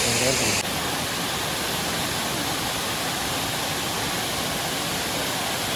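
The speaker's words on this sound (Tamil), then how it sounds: "ஸோ கைஸ் இது வந்துட்டு தேர்ட் ஃபால்ஸ்" The third waterfall at Kodaikanal sends up a steady, dense rush of falling water that fills the whole clip without any break, with a brief voice at the very start.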